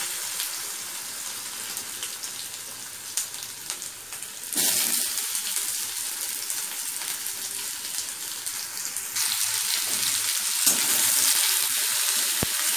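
Potatoes sizzle in hot oil in a pan with fenugreek, fennel and chili for Bengali-style bari posto, a steady close hiss that swells louder as more goes into the pan, with no talk.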